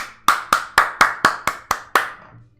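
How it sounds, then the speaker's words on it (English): A single person claps hands eight times in a steady, even rhythm, sharp and close, with nothing else heard. "She begins clapping. Slow at first, then faster, and more vigorously."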